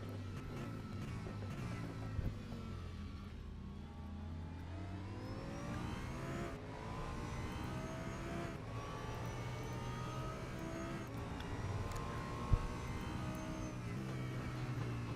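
An Audi racing car engine in a racing video game drones and revs continuously, its pitch rising and falling through gear changes, with no talking over it.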